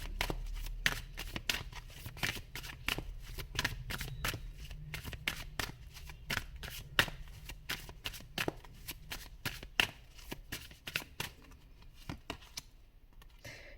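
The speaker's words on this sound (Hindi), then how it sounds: "सारे कार्ड्स मैं एक साथ ही निकाल लूँगी गाइस" Tarot cards shuffled by hand in a steady run of crisp riffling snaps and flicks, close and fairly soft, with a low hum underneath and no talking.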